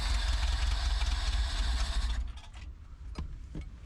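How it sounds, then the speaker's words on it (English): An old Soviet-era truck with a carburetor, started by hand, runs in a loud steady mid-pitched idle for about two seconds before cutting out, followed by a few faint knocks and clunks. "I'm starting the engine manually."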